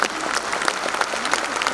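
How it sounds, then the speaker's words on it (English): An audience at a school annual day claps together in dense, even applause, close and steady for a brief moment, with no voices over it. "please extend a grand distinct applaud to all these"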